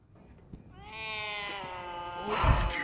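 A cat meows outdoors at night, wanting to be let in: one long, drawn-out, fairly loud meow that rises in intensity toward the end, with no talking over it.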